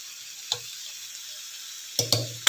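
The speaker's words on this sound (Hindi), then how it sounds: "सोरिष तेल रे बघारिया कोल्थ डाली फुटण" Horse gram dal gets a tempering in mustard oil, a quiet steady sizzle broken by a sharp splash near the start and a cluster of bursts and clatters toward the end.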